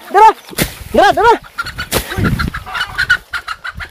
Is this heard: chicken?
yes